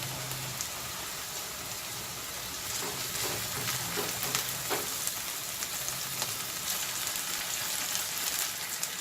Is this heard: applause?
no